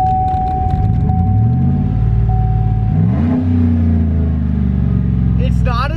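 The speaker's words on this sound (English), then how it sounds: "I need you to rev it up now." A car with its muffler and resonator deleted revs loudly up close, a raw, harsh exhaust roar that climbs and falls in pitch over a constant rumble, with people talking over it.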